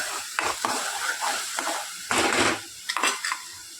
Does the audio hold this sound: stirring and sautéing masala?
yes